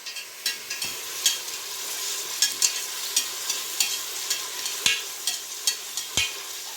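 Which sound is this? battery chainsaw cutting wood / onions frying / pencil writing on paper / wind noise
onions frying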